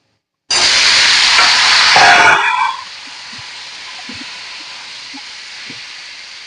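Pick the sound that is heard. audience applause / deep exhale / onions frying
onions frying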